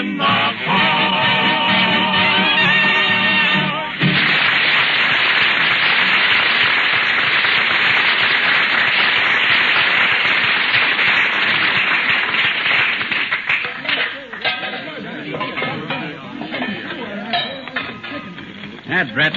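Crackling barbecue fire sound effect from an old-time radio comedy, a dense hiss of crackle and static filling the scene continuously, fairly loud, with a busier patch at the start and rougher bursts toward the end.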